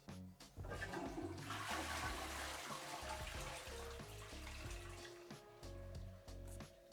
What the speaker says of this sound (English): it's now time to see if my toilet flushes